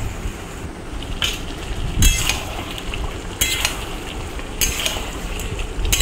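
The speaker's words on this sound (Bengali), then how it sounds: "এবার এই সমস্ত গুঁড়ো মশলা দিয়ে মাংসটাকে ভালো করে কষিয়ে" Chicken pieces fry in a pan with ground spices such as turmeric and chilli powder, a constant sizzle broken by about four sharp scrapes and clinks of a spoon stirring the meat against the metal.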